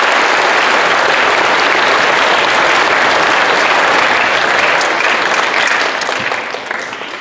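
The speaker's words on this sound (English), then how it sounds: "So a big round of applause." Sustained loud applause from a school assembly audience at a Veterans Day event, dense steady clapping filling the room for several seconds before gradually tapering off.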